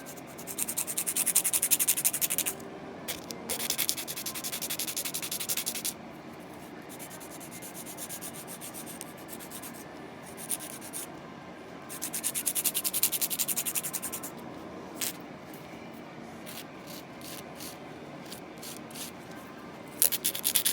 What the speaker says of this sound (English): I'm just going to continue sanding the nails.